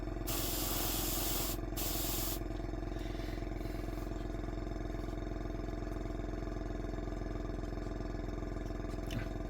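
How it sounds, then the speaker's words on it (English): Airbrush spraying paint onto a Tamiya 1/35 scale U.S. 2½-ton 6x6 cargo truck model, a close, steady hiss over a constant compressor hum, with short bursts and pauses early on. "give your airbrush a blast away from your mould, clear the tip"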